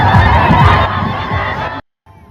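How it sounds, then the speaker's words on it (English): A crowd of Iranians cheers and shouts in the streets of a Western city, a loud dense roar of many voices with shrill calls on top, which drops off sharply near the end before a faint murmur returns. "Iranians flood into the streets of Western cities, waving flags and cheering to the United States while celebrating the dawn of a free Iran"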